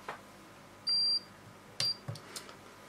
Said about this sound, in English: as soon as we hear the beep, we can release